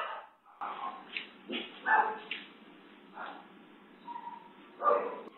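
A dog barks and yips in scattered bursts, with a few whimpers between them, as a man wielding a slipper drives it off toward the kitchen. The barks are fairly close and sound alone, without talk.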